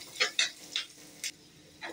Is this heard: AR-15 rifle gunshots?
no